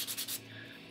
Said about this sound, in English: I think I'm gonna start to sandpaper it.